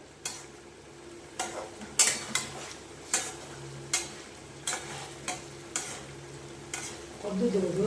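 Unmarinated, washed chicken stir-fried in a pan, a soft continuous sizzle under a regular series of sharp spatula scrapes and knocks roughly every half second, close by, with no speech.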